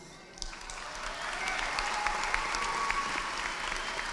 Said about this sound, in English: Give it up for these guys.